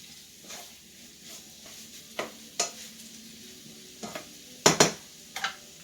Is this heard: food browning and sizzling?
yes